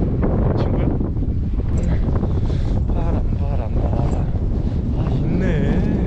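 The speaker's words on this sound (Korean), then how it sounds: "바람" Strong wind buffets the microphone outdoors in a Portuguese city, a constant broadband roar with people talking and passing street sounds under it.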